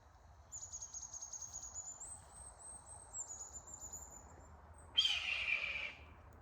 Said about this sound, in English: That was a red-tailed hawk.